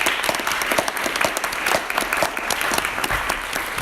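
An audience at a leadership and business summit applauds, dense steady clapping from a crowd that carries on without a break and with no voices on top.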